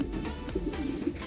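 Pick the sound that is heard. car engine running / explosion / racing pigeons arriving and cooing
racing pigeons arriving and cooing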